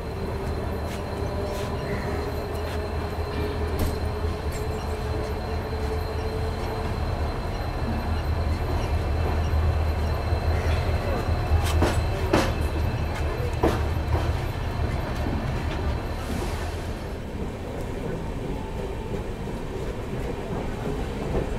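Steady rumble of the Hubballi JanShatabdi Express running between Bangalore and Hubballi, with continuous rail clatter and occasional sharp wheel clicks and squeals throughout, heard from on board without talk.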